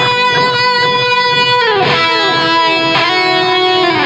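Electric guitar driven through an Analog Man King of Tone clean boost, playing loud, sustained chords and ringing notes with bending, gliding pitches and a steady, full level throughout, no voices.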